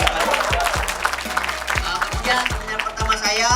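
Seminar audience applauds in a dense, moderately loud wash of clapping, while a voice speaks over it through an amplified system and low thumps recur in the background.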